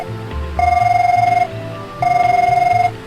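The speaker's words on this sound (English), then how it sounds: "And the ringtone I'm hearing is that of the extension." An extension telephone rings twice in the video game Magical Eyes - Red is for Anguish, two loud, close electronic trilling rings separated by a short pause over a quiet low background tune.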